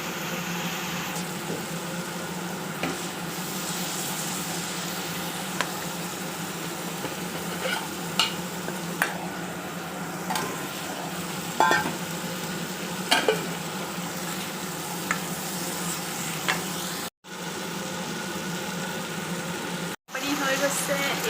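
Masala spices and potatoes fry in oil in a pan, making a continuous close sizzle punctuated by repeated scrapes and taps of a stirring spoon.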